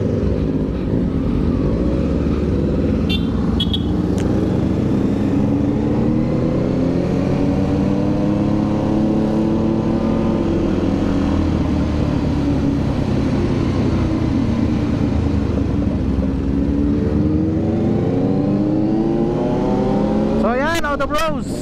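A Kawasaki Z900 and a 2023 Yamaha XSR900 motorcycle rumble loudly and close at a shop opening, engines holding a deep idle that rises and falls with revs, with a sharp rev near the end.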